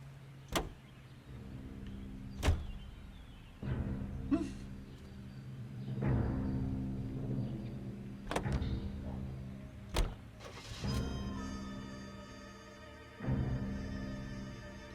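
In the LA Noire game, a car door slams several times with sharp, separate thuds spaced a few seconds apart, alongside a low idling engine hum and brief whirring mechanical sounds.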